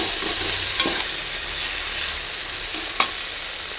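Steady sizzling of tomatoes frying in a pan for chicken biryani, with a couple of scraping stirs and clicks of a utensil against the pan, close and continuous.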